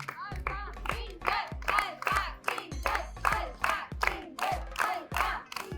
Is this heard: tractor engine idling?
no